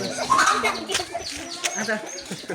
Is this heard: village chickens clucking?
yes